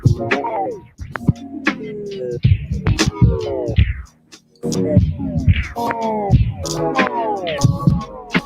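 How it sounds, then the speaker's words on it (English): Music run through a tape stop effect with added filtering, pitch sliding downward as the playback slows, with a brief near-drop in level midway before the music resumes at full loudness. "A little more filter on the tape stop. A little longer."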